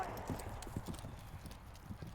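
A horse canters in a riding session, its hoofbeats a steady, rhythmic clip-clop at a moderate distance. The sound is fairly faint, and a voice is heard over it.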